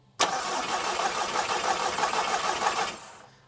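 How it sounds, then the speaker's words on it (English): A Volkswagen TFSI engine fitted in a Mark IV Ford Escort cranks over on the starter, a steady fast rhythmic churning that starts abruptly, runs about three seconds at close range, then cuts off without catching. "we have a TFSI engine cranking in a Mark IV Escort"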